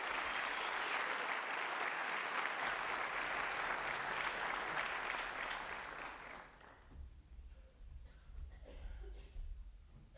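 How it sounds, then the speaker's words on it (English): An audience claps in a dense burst of applause that holds for about six seconds, then fades into scattered claps and quiet room noise. "Please give them a round of applause."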